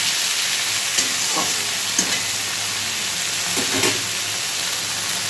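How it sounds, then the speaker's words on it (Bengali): Water lily stems (shapla) sizzle steadily in a pan with oil and a little sugar, a continuous frying hiss with occasional louder spatters and stirring scrapes throughout. "এবার ভালো করে একটা ভাজা ভাজা করবো।"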